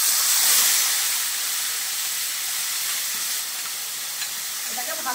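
A paste of onion, ginger, garlic, tomato and green chili sautéing in a pan with cardamom and cinnamon, giving a loud, steady hissing sizzle that slowly eases, close by with no voices.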